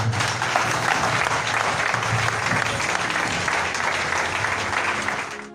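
A church congregation applauds and acclaims during a prophetic service, dense sustained clapping at moderate level filling the whole stretch without pause.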